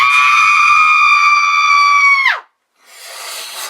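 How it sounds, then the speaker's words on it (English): Scream in a haunted attraction advertisement: one loud, sustained shriek that holds steady, then drops sharply and cuts off, followed by a brief burst of hissy noise. "I gotta find out where that scream's coming from!"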